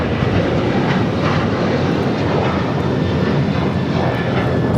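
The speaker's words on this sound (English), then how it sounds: "That was Alaska Airlines 1430 taking off to Los Cabos on the 737-900ER" Alaska Airlines Boeing 737-900ER taking off at LAX, a loud, close, continuous jet engine roar, broadband and steady throughout, with no talking.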